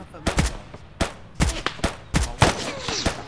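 Gunfire in the military shooter ArmA: sharp, loud single shots and short bursts cracking out at irregular intervals, close and prominent against a low background rumble.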